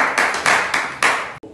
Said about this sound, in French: Mais c'est incroyable, ça s'applaudit quand même.